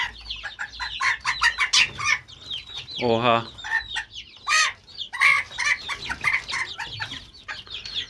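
An aggressive Serama chicken clucks and squawks agitatedly amid a burst of close, loud calls, with a person talking over and between the noises.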